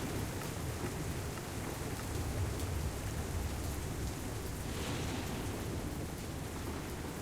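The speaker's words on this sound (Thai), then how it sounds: "เสียงฝนดังมากเลยอะ" Heavy rain falling in Minecraft with the Realism Effects addon, a dense, loud, continuous hiss of rain on surfaces with a faint low rumble underneath, steady throughout and with no talking.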